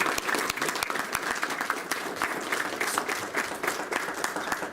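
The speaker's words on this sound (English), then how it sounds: "please just giving a round of applause" Attendees at a county Law Day ceremony give a round of applause, a full, even patter of many hands clapping in a hall, continuing steadily for nearly five seconds.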